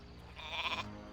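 A sheep in WarCraft 3 lets out a single short, clear bleat over a low steady game background.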